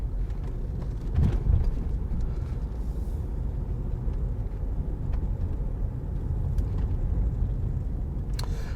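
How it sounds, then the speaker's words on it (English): A car passes on a road near Tonbridge, heard from inside a moving vehicle as a swelling whoosh about a second in, over a steady low road rumble with no talking. "Car coming."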